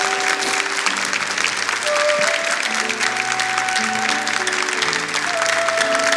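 Church congregation applauding after a sermon, a steady dense wash of clapping lasting throughout, with organ or keyboard chords sustained underneath.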